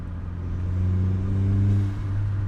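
Volkswagen Jetta MK4 fitted with a cheap Chinese aftermarket exhaust with resonator and muffler, giving a low, bellowy steady drone with strong low harmonics, close and loud, no talk.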